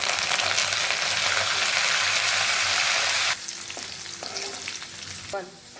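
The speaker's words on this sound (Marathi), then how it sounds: "आता हे फोडणी चांगली शिजून त्यामध्ये टाकते तिखट मीठ आणि लाल सुके मिरचे" A tempering of spices sizzles loudly in hot oil in a pan while greens are cooked, a dense continuous crackle that drops to a quieter hiss partway through, with light clinks of a spoon stirring.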